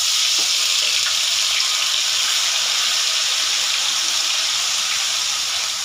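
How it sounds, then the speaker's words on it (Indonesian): Shallots and garlic sauté in a hot pan with a loud, continuous sizzle and crackle that stays steady throughout, and no one talks over it. "Kita tumis dahulu bawang merah, bawang putih kita sehingga harum"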